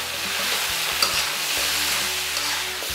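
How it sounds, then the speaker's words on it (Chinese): Rice with pumpkin, salt, light soy sauce and oyster sauce being stir-fried in a wok: a steady close sizzle broken by scraping spatula strokes and clatters, with no voices. "翻炒均匀"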